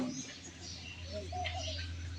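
Faint chirps and short coos of birds nesting inside a building, soft and somewhat distant over a low steady hum, with a voice murmuring in the background.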